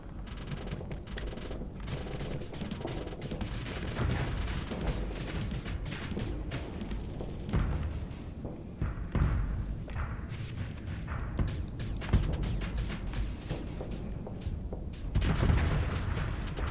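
Space combat in the open-world sci-fi game Starsector: steady rumbling gunfire and crackling weapon impacts, fairly quiet overall, with repeated sharp shots and bursts scattered through a dense low roar.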